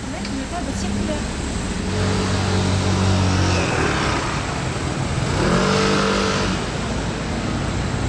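An Audi RS6 GT drives past in Monaco amid road traffic, a loud, close, continuous roar that swells and eases over several seconds, with voices mixed into the noise.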